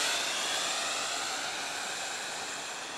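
Syma X8C quadcopter drone motors held at full throttle, a steady loud whirring roar with a broad airy hiss that eases off only slightly across the three seconds, with no talking.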